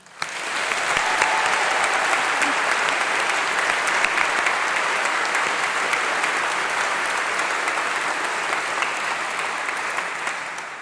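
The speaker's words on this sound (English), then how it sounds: "give these wonderful staff members a well-deserved round of applause" Graduation ceremony audience at a university congregation gives sustained applause for staff members, a broad, even wash of clapping that swells quickly and holds steady throughout, with no talking over it.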